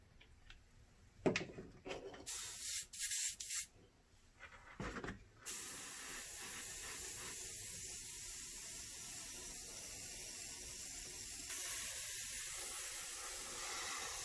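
Primer sprayed from an aerosol can onto a prop Star Wars bounty hunter tracking fob, a few short bursts and then a long, steady, close hiss with faint handling noises.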